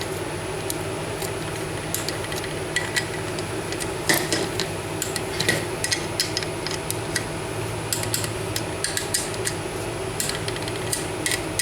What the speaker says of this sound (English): When you torque wrench clicks on all of these, double check them all a couple times to be sure.